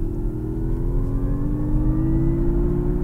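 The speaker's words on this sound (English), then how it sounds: "this little noise that Mazda has engineered into the car" A 2021 Mazda MX-30 electric car accelerates, its engineered drive sound a smooth synthetic hum that rises steadily in pitch over a low rolling road rumble, with no talk.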